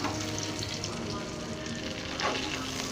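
Fish wrapped in banana leaf fries in hot oil with a steady, fairly quiet sizzle and crackle throughout and a slight rise near the end.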